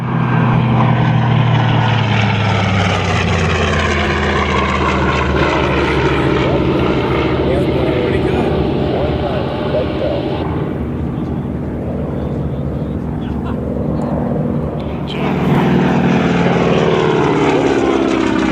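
A Grumman Avenger winds up its big 1,350-horsepower Wright Cyclone radial engine at an airshow, producing a loud, continuous propeller roar that dips briefly and surges back near the end.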